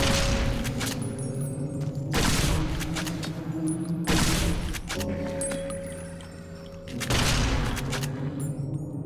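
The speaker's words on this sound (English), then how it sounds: "you can shoot through these banisters, no problem" Gunfire in the Fallout New Vegas video game comes in four loud, close bursts of shots at roughly even intervals over a constant low background hum.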